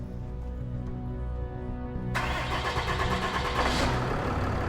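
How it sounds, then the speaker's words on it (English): A heavy truck engine, just repaired, cranks and fires up partway through, shifting from a low rumbling hum to a loud steady running roar that holds close and even to the end. "The motor sounds great."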